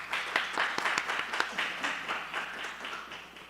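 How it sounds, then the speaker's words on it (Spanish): An audience at a university lecture hall claps to welcome a speaker to the stage, a moderate burst of many hands with sharp individual claps, steady for a few seconds and then tapering slightly. "Recibámosle, por favor, con un fuerte aplauso."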